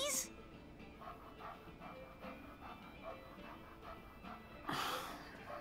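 A puppy in Life is Strange 2 whimpers softly in short, repeated whines at a gas station, with a louder burst near the end and a faint rumble behind it.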